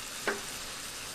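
A spoon stirs okra masala in a hot pan, one brief scrape cutting through a continuous soft sizzle of frying.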